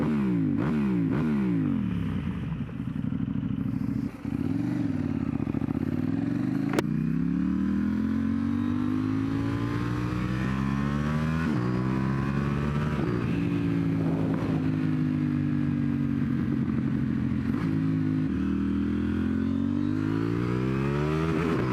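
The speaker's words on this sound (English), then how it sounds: "So it's my last ride on the Duke 790." A KTM Duke 790 motorcycle being ridden, its engine loud and close, revving up and down through the gears in continuous rising and falling sweeps with no talking.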